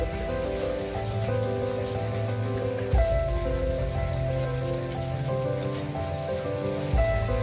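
Steady rain from Cyclone Remal falls on surfaces and jackfruit trees with a constant patter and hiss, a couple of louder knocks breaking through.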